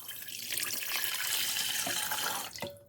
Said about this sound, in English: I'll just add some water